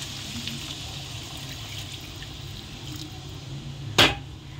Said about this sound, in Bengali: ওই গরম জলটা দিয়ে দেবো